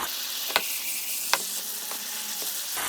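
Soy sauce poured around the edges of stir-fried pork for jeyuk-bokkeum hisses in a hot pan, giving a steady close sizzle with two sharp spatula clicks and a few softer knocks.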